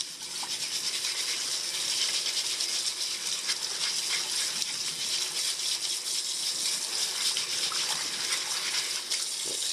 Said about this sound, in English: just some running water, quick scrub, just to get the worst off